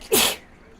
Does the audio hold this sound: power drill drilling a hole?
no